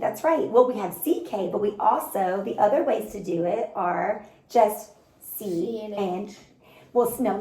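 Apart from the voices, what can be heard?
None of the usual background noises is heard.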